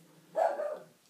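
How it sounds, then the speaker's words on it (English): A single short dog bark, moderately loud and close, rising out of a quiet room and fading within about half a second. "that was just my dog barking there"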